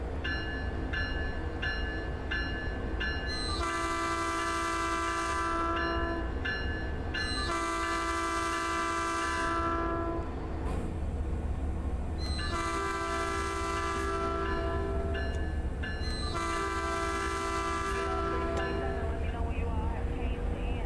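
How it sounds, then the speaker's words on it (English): Horn blasts from a Metrolink F59PHR diesel locomotive in the video game Train Sim World 5, several long chords sounding in repeated bursts over a steady engine rumble with a ringing bell beneath. "So there is the horn and the bell."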